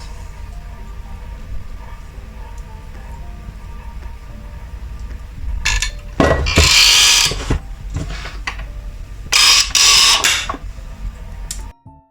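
Dough kneading machine working a batch of dough, a low steady mechanical hum with rattling, then two loud grinding bursts of motor and clatter before it cuts off abruptly near the end.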